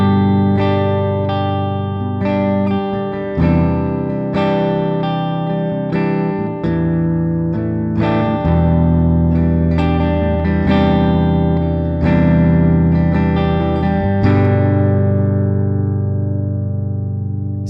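Gibson Les Paul Studio electric guitar on the middle pickup position, played clean with chords and single notes ringing out steadily, bright and sustained through an amp.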